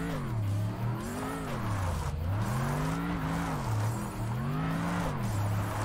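A car drifting in the Tokyo Xtreme Racer Drift 2 racing game, its engine droning and rising and falling in pitch as the tires squeal steadily through the slide, loud and close.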